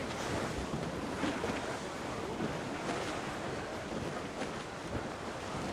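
Rough sea waves and gusting wind at sea in Assassin's Creed Rogue, the sailing ship Morrigan crossing toward Anticosti, a steady dense roar of surf and wind without pause.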